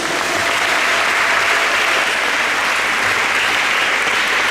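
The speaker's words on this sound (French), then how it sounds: "Acclamons Jésus-Christ" A church congregation bursts into loud, dense applause for Jesus Christ during a French-language sermon, sustained steadily with no pauses throughout.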